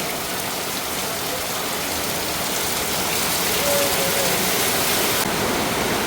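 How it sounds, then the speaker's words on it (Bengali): Rain falling steadily, a dense, even hiss of heavy downpour close by that holds constant throughout with no talk over it. "কি যে ভালো লাগছে আজকের বৃষ্টি বলার মতো না"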